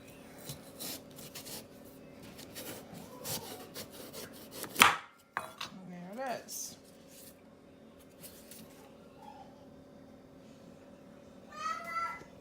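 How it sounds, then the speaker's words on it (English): A knife saws through a pumpkin to cut off its top, making quiet, rasping strokes with a sharper knock partway through and a few soft scrapes, faint and close. "I just kind of went in here and sawed a little bit to get this top off"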